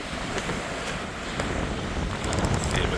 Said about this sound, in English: Bit windy, but look at these huts all the way along the seafront.